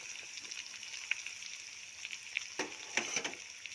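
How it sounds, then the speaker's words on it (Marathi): Tomatoes sautéing in a pan for upma, a faint steady sizzle with a few louder stirring scrapes near the end. "आणि टोमॅटो परतून घेऊयात."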